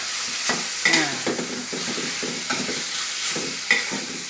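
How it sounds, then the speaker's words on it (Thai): Pork stir-fried for a pumpkin coconut-milk curry, a spatula scraping and stirring through the pan in repeated close strokes over a soft sizzle. No one speaks. "ตอนนี้นิกกี้ก็รวนหมู"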